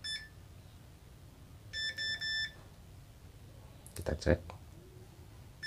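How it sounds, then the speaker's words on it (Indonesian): A multimeter set to its continuity buzzer beeps while parts of a salvaged LED lamp are tested: a steady high beep lasting under a second, then a clatter of clicks and handling, with someone talking throughout. "Kita atur untuk skala multitesternya ke skala tahanan untuk mengukur resistor atau ohm, lalu kita pilih bagian"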